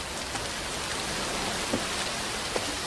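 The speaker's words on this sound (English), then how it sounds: "You wait until the rain stops!" Rain falls steadily as a dense, even hiss, with a few louder drops standing out now and then. No voices are heard.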